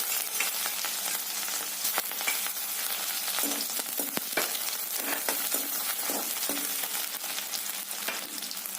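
Onions and green chilies hit hot oil in a wok, giving a loud, steady sizzle and crackle throughout, with occasional scraping stirs and no voices.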